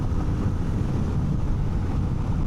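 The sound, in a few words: wind noise while riding a 2025 Honda XR650L at highway speed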